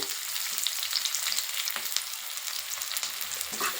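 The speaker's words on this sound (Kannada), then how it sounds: "ಇದು ಈರುಳ್ಳಿ ಫ್ರೈ ಆಗಿದೆ" Onions fry in a hot pan with a continuous crackling sizzle, punctuated by sharper pops and a few light stirring scrapes, close and fairly loud with no voices.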